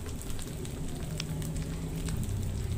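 A soft, steady sizzle of spice paste frying in a pan, with faint crackles and pops scattered throughout, close and continuous.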